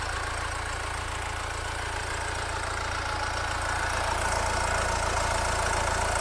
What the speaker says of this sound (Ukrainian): Двигун працює гарненько, рівненько, гарно заводиться і на холодну.